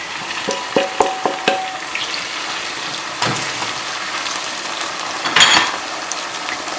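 Tomatoes frying in a pan for aloo palak: a soft steady sizzle with a few sharp clicks and scrapes of stirring early on and near the end, close and alone.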